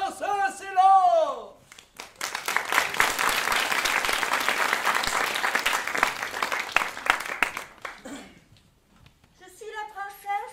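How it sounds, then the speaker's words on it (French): Audience at an improvised puppet theatre show in Toulouse bursts into lively applause for the princess, swelling for several seconds between stretches of a performer's theatrical speaking before and after. "Applaudissez la princesse et l'or !"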